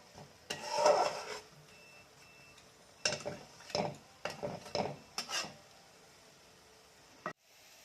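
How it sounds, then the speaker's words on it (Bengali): Spice paste for egg curry stirred and scraped in a pan with a spoon, giving a series of short rasping strokes in irregular bursts at close range, quiet overall with pauses between. "মশলাটাকে ভালো করে একটু নাড়াচাড়া করে নিচ্ছি যাতে কাঁচা গন্ধটা চলে যায়।"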